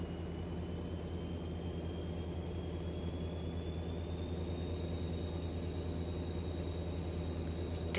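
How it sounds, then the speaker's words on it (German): A big rig's engine idles in American Truck Simulator, a steady low diesel rumble with a faint high whine running beneath it, continuous and unchanging for the whole stretch with no talk over it. "Der LKW klingt so mega krass."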